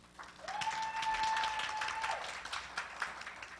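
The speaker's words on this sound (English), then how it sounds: "So if you'd like to give a round of applause to them one more time." Audience round of applause at a community town hall meeting, moderate clapping sustained throughout, with a brief steady tone sounding over it early on.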